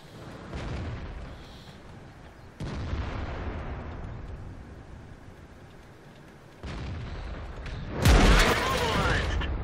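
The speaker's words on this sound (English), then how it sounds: "That was a shot where I was hit by an artillery." Artillery shell slamming into a T28 Prototype tank in World of Tanks, with a sharp loud impact burst near the end following quieter rumbling blasts and game ambience, talk running through.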